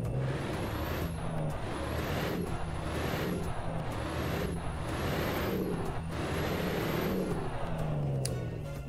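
An International Eagle 9400 truck engine rumbles loudly and continuously nearby, its pitch rising and falling in repeated surges, with a high whine running through it.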